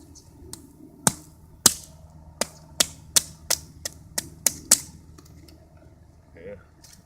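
A blade chops into a branch for a bow-drill fire, about a dozen sharp wooden knocks in an uneven, quickening rhythm outdoors, then the blows stop.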